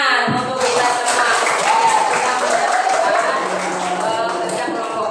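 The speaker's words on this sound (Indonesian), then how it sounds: "Ya, tepuk tangan untuk kita semua." A classroom group claps together after group work, a loud, dense patter of hands close by that carries on for several seconds with children's voices mixed in.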